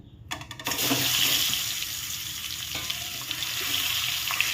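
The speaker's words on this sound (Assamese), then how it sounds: "মিঠাতেলটো গৰম হৈ গ'ল। এতিয়া মই ইয়াতে বইল কৰি ৰখা ডিমকেইটা ভাজি ল'ম।" Boiled eggs frying in hot mustard oil in a kadai give a steady, close sizzle that starts with a sharp burst and holds strong, with a few soft clinks over the hiss and no one speaking.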